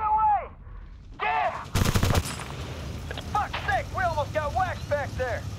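Gunfire in the Battlefield: Bad Company 2 game, a short, dense rattle of shots in the middle, surrounded by whistling, warbling effects and battle noise, with a voice talking.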